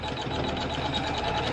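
An embroidery machine runs a tack-down stitch on quilt block fabric, a steady, close, fast mechanical whir with rapid needle clatter that continues evenly throughout.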